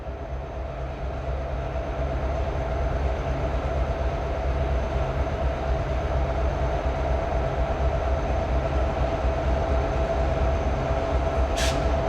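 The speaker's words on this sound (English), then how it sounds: "You got one train right after another." Freight train rolling steadily past Cedar Falls Junction in Iowa, a loud continuous rumble and rail noise lasting throughout with no letup, plus a brief high squeal near the end.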